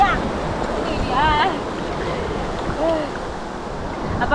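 Incoming tide waves wash over an uneven rocky coral shore, a steady close surging roar with wind buffeting the microphone and a couple of swells rising louder.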